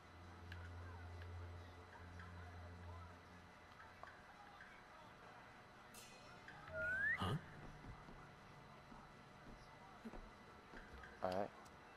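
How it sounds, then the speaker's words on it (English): In the Assassin's Creed China video game, a character whistles briefly to distract a guard, a short rising whistle amid faint game ambience and other small sound effects. "Whistle to distract him to avoid me."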